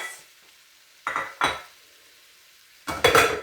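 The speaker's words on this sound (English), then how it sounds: "This is the time to add my 4 chopped tomatoes." Chopped tomatoes tipped into a pan of cooking peppers for Algerian shakshouka, with a few bursts of utensil clatter and stirring and a short sizzle at the end.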